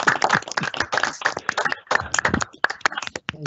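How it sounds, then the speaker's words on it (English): Online council meeting applause coming through unmuted microphones: a thin, compressed clatter of many overlapping claps that thins into scattered individual claps before fading. "That was a virtual applause."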